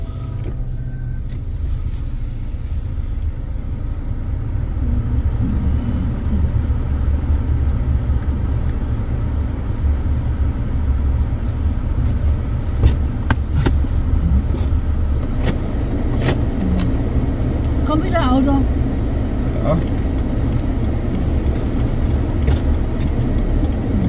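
BMW car driving to a spring festival in Gerolzhofen, with a continuous, close engine rumble and road noise that stays steady throughout, with no talking.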